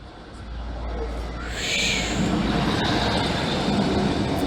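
A Class 153 diesel unit, 153 326, heading for Doncaster, rolls over the Lincoln Central level crossing. A steady, loud rumble builds with a faint wheel squeal and rail clatter as it passes close by.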